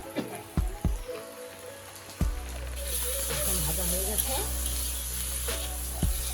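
Frying in a pan for a Bengali egg curry with chilli powder, starting with a few knocks and clatters, then a steady close hiss of sizzling oil, with a person talking over it.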